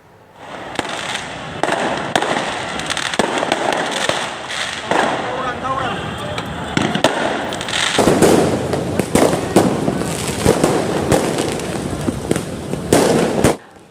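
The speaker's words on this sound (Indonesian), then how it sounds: "kedua kelompok remaja bahkan saling menembakkan petasan ke arah lawannya" Firecrackers fired back and forth between brawling teenage groups during a New Year's Eve street fight in Jakarta, loud sharp cracks and bangs popping in rapid succession throughout, with shouting voices amid the blasts.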